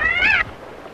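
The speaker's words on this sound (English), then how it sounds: "That cat came all the way from Omaha." A cat in a western setting gives a single close, loud meow with a brief rising-then-falling pitch, lasting under half a second before quiet background.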